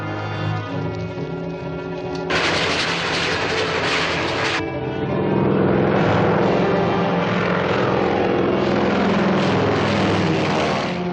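A propeller airplane in a 1951 colorized film serial drones steadily and loudly throughout, its engine hum joined midway by a brief surge of rushing hiss before settling back into a continuous roar.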